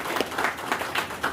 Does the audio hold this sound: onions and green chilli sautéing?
no